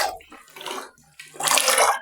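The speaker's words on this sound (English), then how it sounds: "I always like putting the water bit by bit" Water splashes and gushes as it is poured into a container of concentrated bleach in two uneven bursts, the second longer and louder, with no voices.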